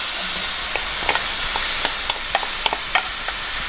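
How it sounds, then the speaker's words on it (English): Ground beef and white onions frying together in a pan give a steady broadband sizzle, with short scraping stirs of a utensil recurring through it; no one talks. "Next, I'm going to add in the rest of my white onions."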